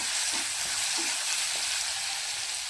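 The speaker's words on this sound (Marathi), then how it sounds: "लसूण आणि कोथिंबीर बारीक केलेला हे चांगलं तेलामध्ये फ्राय करून घेऊया" Cumin, mustard seeds, curry leaves, chopped garlic and coriander fry in hot oil with a dense, loud, steady sizzle and a few soft stirring knocks, heard close with no talk.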